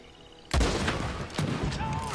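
Gunfire in the Red Dead Redemption 2 video game erupts suddenly after a quiet moment, as a loud, dense volley of overlapping shots that carries on to the end.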